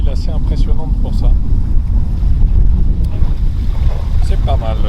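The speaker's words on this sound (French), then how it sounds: "On a toujours une petite houle, mais un vent régulier là." A sailboat moves through steady wind and a small swell off La Graciosa, with continuous wind rush on the microphone and water wash close by, while a person talks over it.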